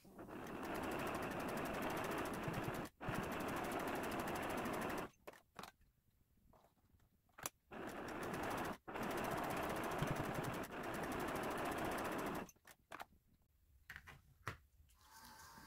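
Sewing machine stitching a patchwork seam on a quarter square triangle unit, a steady rapid whirring run in long bursts broken by brief pauses and a few sharp clicks between stretches.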